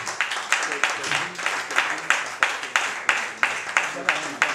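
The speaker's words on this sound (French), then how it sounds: "Acclame encore pour Jésus." A church congregation claps for Jesus in steady rhythmic unison, bright sharp claps repeating about twice per second, with voices underneath.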